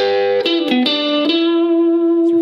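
Electric guitar playing a pentatonic lick that moves between high and low octaves, sustained distorted notes with effects and reverb, several picked notes then a long held tone, loud and alone.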